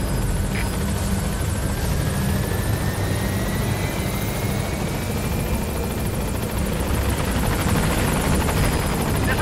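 In Metal Gear Solid V, a support helicopter approaches a landing zone with a loud, continuous rotor thump and turbine whine, steady and close throughout.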